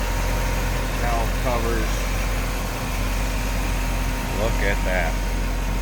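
A 1957 Chevrolet Bel Air sport coupe's engine, with polished intake and HEI ignition, idles smoothly and steadily close by, a constant low rumble while someone talks over it.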